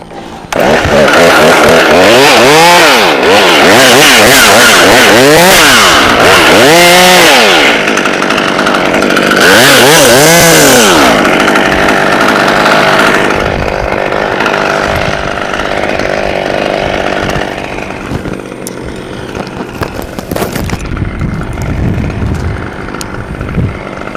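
A Husqvarna T540 XP chainsaw cuts a tree up close, loud and continuous, revving up and down in repeated surges early on before settling into a steadier bite and then winding down toward the end.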